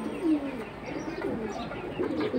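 Pigeons coo in a continuous low, rumbling chorus nearby, soft throaty calls overlapping without pause.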